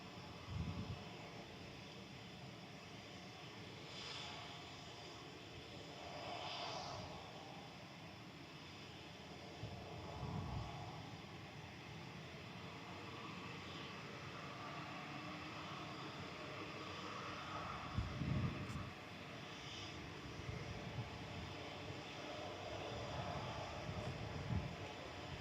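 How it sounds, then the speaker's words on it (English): An Airbus A350-900 airliner, flight 301 to Singapore at Manchester Airport, hums as a faint, distant engine drone that lingers steadily, with scattered soft low thumps and no talk. "9V SMQ heading back to Singapore. Flight 301. This is an A350-900."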